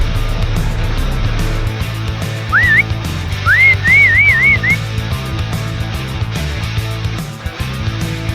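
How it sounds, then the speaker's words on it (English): A person whistles a short rising call and then a quick series of wavering chirps to catch a seal's attention, outdoors over a steady low vehicle rumble. "I think she just whistled at the seal to get his attention."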